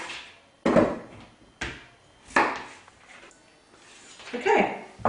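Potatoes being halved with a knife for a Greek-style chicken casserole, giving a few separate firm chops with gaps between them, close and fairly loud.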